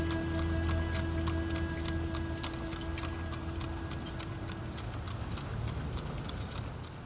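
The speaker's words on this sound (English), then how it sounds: "I love the sound the horses make as they walk along the pavement." Horse hooves clop steadily and rhythmically on pavement, a brisk, even beat over a constant low engine-like hum and a faint steady tone.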